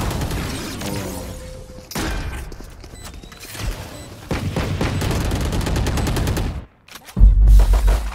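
Video game gunfire in a Turkish match stream: rapid bursts of automatic shots and scattered single cracks rattle continuously for most of the stretch, with a short lull before a loud, heavy final volley.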